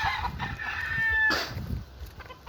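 A fighting rooster crows once, close and fairly loud, a drawn-out call over faint background clucking and farmyard noise.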